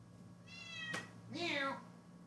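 A pet cat gives two distinct meows, a shorter one followed by a longer, louder drawn-out cry, close by in a quiet indoor room.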